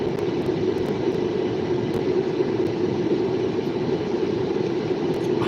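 CSX and Norfolk Southern freight trains pass in Erie, Pennsylvania, a steady, close, heavy rolling rumble with faint clicks and clanks throughout and no talking.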